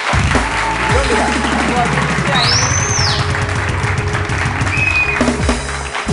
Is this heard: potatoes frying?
no